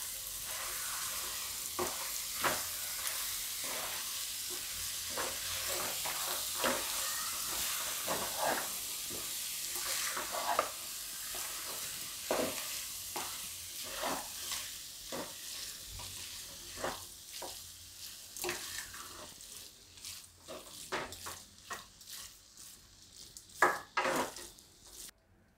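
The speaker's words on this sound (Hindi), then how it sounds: "तो अब इसमें हमने जो ये पनीर तैयार किया था वो डाल देंगे। इसको हम मिक्स कर लेंगे।" Paneer bhurji sizzles and hisses in a hot pan while a spatula stirs it, with repeated close scraping and tapping strokes over the steady frying noise.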